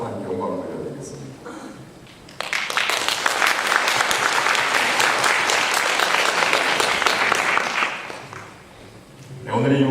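Congregation applauding in a church after a choir performance, a dense burst of clapping that starts abruptly, holds steady and loud for several seconds, then fades, with talk before and after.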